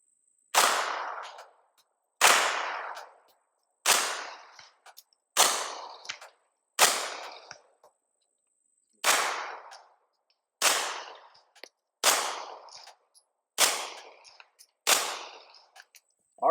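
An MP5 firing through an Omega 9K suppressor outdoors, ten sharp single shots spaced about a second and a half apart, each a loud crack with a short decaying tail.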